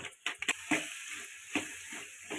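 Eggplant is stirred with vangi bath powder in a pan for a Karnataka-style vangi bath, giving soft scraping stirs and a light steady sizzle heard up close with no talk.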